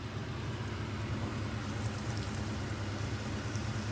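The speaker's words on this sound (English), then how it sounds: "Make sure that's nice and hot. Okay, I'm going to fry off the ginger first." Ginger frying in hot oil, a steady broadband sizzle with faint crackles, constant and moderately quiet with no talk.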